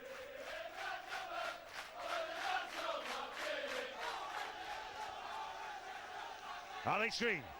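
Rugby league supporters on the terraces at a 1994 Doncaster versus Castleford match sing When the Dons Go Marching In, a faint, distant, rhythmic crowd chant with a brief sharp sound near the end.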